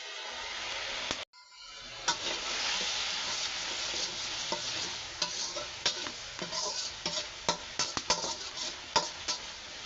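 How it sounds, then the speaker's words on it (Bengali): Ground turmeric and chili powder sizzle and fry in a pan while being stirred, a steady hiss broken by repeated sharp scraping clicks of the spoon, with no talking. "মশলাটা কষানো হোক।"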